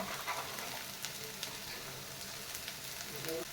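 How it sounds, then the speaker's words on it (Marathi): Masala roasts in hot oil in a pan with a steady close sizzle and crackle that holds evenly throughout, with only a faint trace of voice. "हा मसाला तेलात भाजून घेतला"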